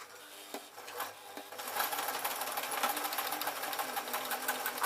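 A sewing machine stitching right along the edge of a fabric circle for a mop hat, starting with a few slow stitches and then running steadily and fast at close range with no talking.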